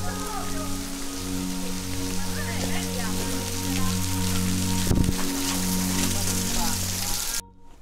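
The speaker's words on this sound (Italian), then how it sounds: "praticamente adesso piove" Steady rain patters densely on surfaces in a canyon, close and continuous, with a low hum beneath and a brief knock partway through.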